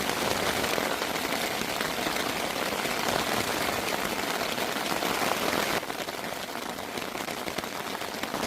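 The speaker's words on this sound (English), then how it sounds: "I think this is going to be some heavy arse shit rain." Heavy rain pours steadily onto a Hilleberg Soulo tent during a mountain thunderstorm, a dense, loud, even hiss with no talk, easing slightly partway through.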